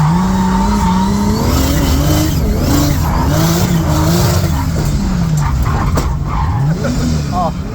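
A car spins its tires at a drag race, the rubber squealing in long wavering howls over a steady engine roar that continues unbroken for several seconds.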